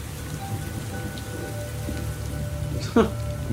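Steady rain falls on a surface in a film scene, a continuous wash of drops with a brief louder crack near the end that may be thunder.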